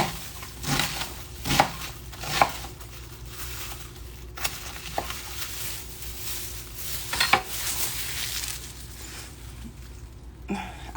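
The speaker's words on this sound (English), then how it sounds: "this is how I cut an onion" A knife cuts an onion into small chunks on a board, with several irregular sharp chops spread over a faint, steady background hiss and occasional light kitchen clatter.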